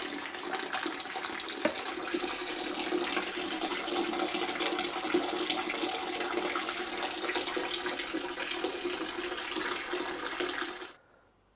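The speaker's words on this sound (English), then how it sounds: "So I've got my cleaning tub for that I just fill like so, and open the tap." Water gushing from an open tap into a plastic cleaning tub, a steady close rushing stream that runs unbroken for about eleven seconds before cutting off abruptly.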